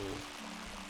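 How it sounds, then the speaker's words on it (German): FLUDD being filled with water in Super Mario Sunshine, a short rushing pour with a gurgling stream, moderately loud and lasting under a second. "Bisschen Wasser füllen und schon geht's."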